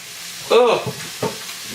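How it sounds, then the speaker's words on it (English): Beef and chilli sizzle in a frying pan over a raised flame, a steady close hiss broken by a short voiced exclamation and a couple of stirring knocks. "we'll listen to that sizzle while I chop the other one"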